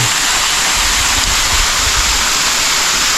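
A mountain stream waterfall with moderate flow rushes in a loud, constant hiss, steady and close throughout.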